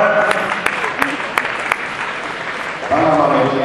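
Applause from the audience at the German Badminton Championships in Bielefeld, 2009: steady crowd clapping with a few sharper claps, fading out as a voice starts talking over a PA at the end.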